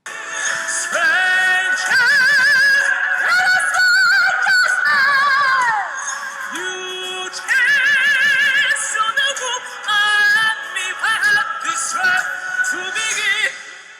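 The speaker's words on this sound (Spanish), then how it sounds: "El gallito intencionado al final de la frase." A singer sings in phrases of sustained high, vibrato-laden notes separated by brief pauses, with a deliberate vocal crack at the end of a phrase and no other voices.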